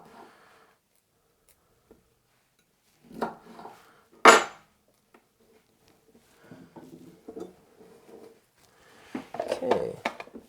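A knife cuts florets off a head of broccoli on a board, giving sparse, irregular knocks and crisp snaps up close, with one sharp louder crack and a busier cluster of cuts near the end.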